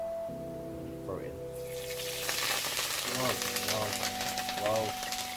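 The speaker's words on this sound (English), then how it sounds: "We just fry it till it goes crispy." Kale tossed into hot oil on an allotment, frying with a broad steady sizzle that swells after a moment, with occasional voices over it.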